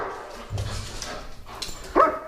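A security dog barks and yips in short bursts during a handler exercise, moderately close, with a sharper bark near the end and no talk over it.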